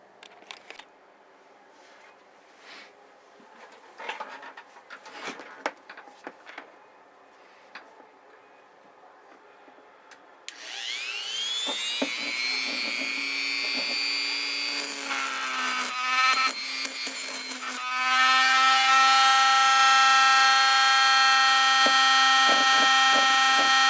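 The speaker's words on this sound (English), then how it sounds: "So I'll take a Dremel to that and just take a chunk off and see what happens." A Dremel rotary tool shaves down a part of a Lee Loadmaster reloading press turret, starting after light handling clicks and then whining loudly and steadily with its pitch rising and shifting as it grinds.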